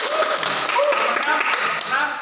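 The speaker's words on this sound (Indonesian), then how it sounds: "Tepuk tangan," Students clap together in a classroom during a teacher's practical performance test. The applause is a dense, steady patter for the whole stretch, with voices talking over it.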